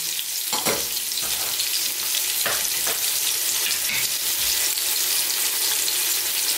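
Garlic, onions, celery and carrots fry in oil for a vegetable soup, giving a steady close sizzle with a few stirring knocks and scrapes along the way.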